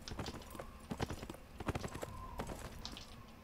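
Galloping horse hooves in the PC game Neverwinter: a steady run of close, sharp clip-clop beats with no voices over them.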